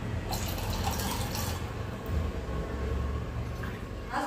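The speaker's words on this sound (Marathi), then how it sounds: "अजून थोडंसं पाणी ओतते." Water trickles into a pan of dill-leaf (shepu) vegetable curry, a faint steady pouring and splashing in a quiet kitchen.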